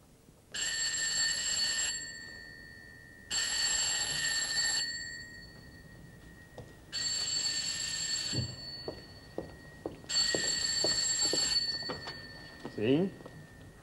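An Italian telephone rings on an outgoing call, four long bright rings with evenly spaced pauses, heard close through the handset, while faint clicks and a short voice sound in the gaps.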